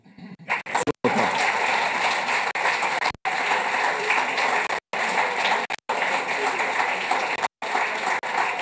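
Applause at a formal signing ceremony for a social truce agreement: dense, sustained clapping from a crowd in long bursts, broken by several brief silent gaps.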